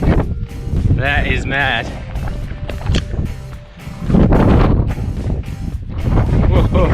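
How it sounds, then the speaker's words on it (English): Strong wind gusting and blowing snow high on Ben Nevis, roaring into the microphone in heavy buffeting bursts, with an excited voice speaking and exclaiming over it. "it's the wind blowing snow at me"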